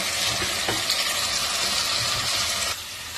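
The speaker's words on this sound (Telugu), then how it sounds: "5 నిమిషాల తర్వాత మూత తీసి ఒకసారి కలుపుతున్నా." Loud, close sizzling of potatoes frying in oil as they are stirred, a dense hiss with a brief scrape early on.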